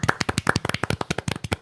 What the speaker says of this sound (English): For Killian, should we record a little golf clap?